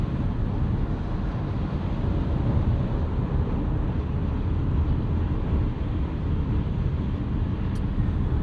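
A 2024 VW Tiguan S in S mode accelerates on a rainy day, its engine and tyre noise forming a loud, steady low roar with road rush that holds throughout.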